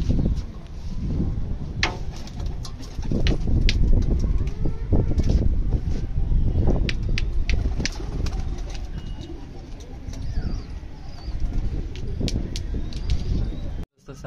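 Pigeons in a coop coo and flutter close by while grain is being eaten, a steady busy murmur of soft calls and scattered sharp wing and foot sounds over a low rumble.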